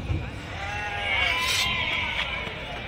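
Sheep bleating at the Angallu sheep market, several drawn-out calls overlapping at mid distance beneath steady market background noise.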